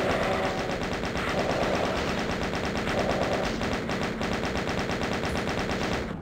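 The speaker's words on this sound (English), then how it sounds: "And I can safely chain gun them, because they cannot get to me." Chaingun fire in Doom 2 aimed at lost souls, a dense unbroken rattle of rapid shots that stays loud and close for the whole stretch, layered over constant game noise.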